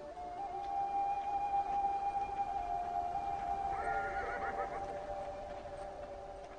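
A video game horse whinnies in a long, wavering neigh, fairly clear and close, with a faint second call layered in partway through; no voices.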